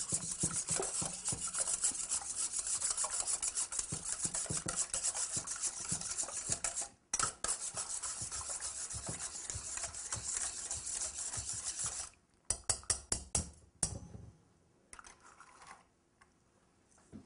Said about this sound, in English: Then we take the whisk and we whisk the eggs and the milk.